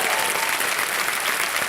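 A studio audience on the quiz show Kaun Banega Crorepati applauds a contestant with dense, steady clapping close up throughout.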